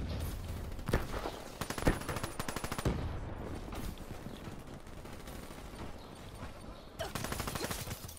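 Rapid automatic fire from the Weevil gun in a video game rattles in steady bursts with short pauses, loud and close, continuing across the whole stretch.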